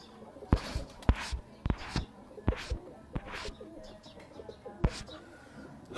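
Soft, continuous cooing from Heera lal pigeons runs low underneath a series of sharp, loud clicks and knocks spaced irregularly, with faint bird chirps in the background and no one talking.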